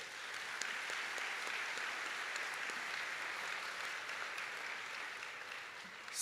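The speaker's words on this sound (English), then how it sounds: "Let's give them a round of applause" Steady, dense applause from a university graduation ceremony crowd, sustained for several seconds at an even level, with no voices standing out.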